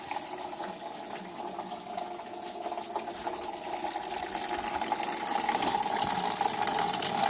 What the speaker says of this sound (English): Draining the rad now.